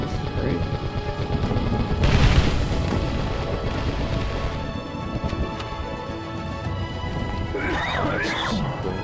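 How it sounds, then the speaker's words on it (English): A rocket launcher fires in the video game CastleMiner Z, giving a heavy booming blast that swells about two seconds in over continuous dense game noise, with voices talking over it. "My rocket launcher missed."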